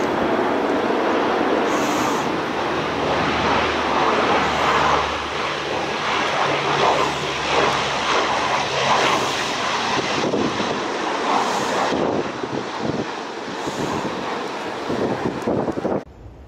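Taiwan Air Force jets, including F-16s, descend over the Pacific to land at Taitung air base, their engines roaring loud and close throughout, with heavy wind buffeting the microphone beside the seaside viewing platform.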